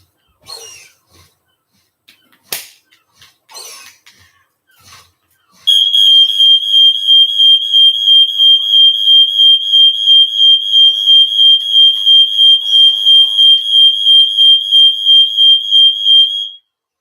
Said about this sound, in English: Can I touch the smoke alarms, please?